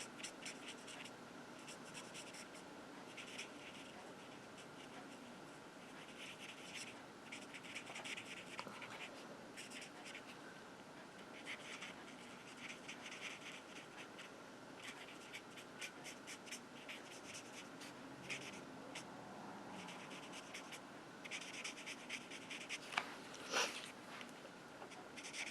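Colored pencil dragged in short, scratchy strokes across a stamped card-stock flower while shading a petal, making a soft, continuous close-up scratching with a few sharper ticks, faint and alone.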